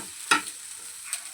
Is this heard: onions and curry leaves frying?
yes